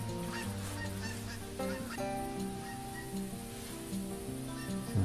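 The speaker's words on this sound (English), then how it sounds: "Along with a bunch of geese." A flock of Canada geese honks repeatedly in the hunting game theHunter Classic on the Hirschfelden map, a steady chorus of overlapping nasal calls close by against a constant outdoor ambience.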